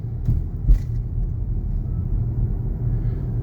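A Togg car accelerating under adaptive cruise control, heard from inside as a steady low road and drivetrain rumble with a soft bump early on, and no talking.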